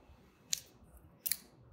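A foil cutter slicing around the foil capsule on a wine bottle gives two short, crisp cutting snips about three-quarters of a second apart, close and clear against near silence.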